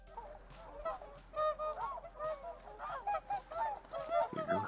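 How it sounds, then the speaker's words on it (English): Geese in the farming town of the video game Settlement Survival honk repeatedly in a loose, overlapping series of nasal calls, moderately close and clear, with no speech. "goose are doing well."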